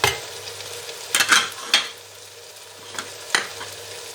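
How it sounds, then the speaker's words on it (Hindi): Tomatoes, chillies, turmeric and masala fry in a pan for chicken bhindi. A soft sizzle runs under several sharp spoon scrapes and clatters, bunched near the middle and recurring toward the end, with no talking. "अब इनको भूनेंगे।"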